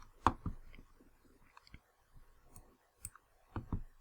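A computer mouse gives about a dozen quiet, sharp clicks, some in quick pairs and some spaced apart, in a silent room.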